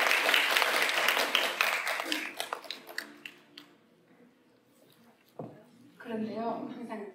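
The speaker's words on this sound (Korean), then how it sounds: "두 번째 시간도 힘내시라는 의미로 큰 박수로 보내드릴까요?" Applause from an audience in a church hall, dense and loud at the start, thinning into scattered claps before fading, with talk returning near the end.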